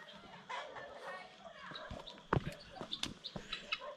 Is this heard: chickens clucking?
yes